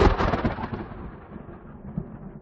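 A thunderclap over the Tatra mountains during a storm, starting with a loud close crack and then rolling into a long rumble that slowly fades.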